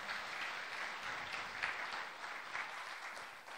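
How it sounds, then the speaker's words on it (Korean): A church congregation applauds after a choir's hymn, a steady wash of many hands clapping at moderate distance and holding an even level for several seconds before easing slightly at the end. "여러분 박수 한번 해주세요."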